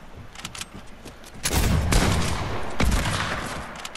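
Gunfire in the Fortnite video game, with a flurry of loud, close shots breaking out after a quieter opening and a second sharp burst just before the end, no voices in between.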